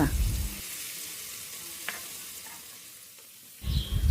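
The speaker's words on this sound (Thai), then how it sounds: "ตั้งน้ำมันให้ร้อน นำกุ้งลงไปทอด" Shrimp fry in hot oil over medium heat, a steady broadband sizzle with occasional stirring clinks, starting louder, settling to a quieter hiss, then swelling again near the end.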